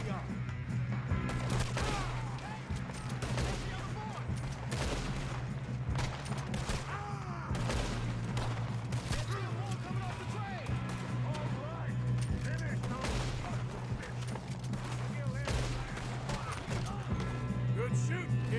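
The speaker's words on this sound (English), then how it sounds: "Good shooting, kid." Gunfire during a shootout in Red Dead Redemption 2, with repeated sharp shots and rapid bursts scattered across a constant low hum, and voices talking over the fighting.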